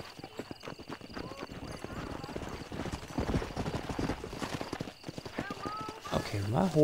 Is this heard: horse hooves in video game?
yes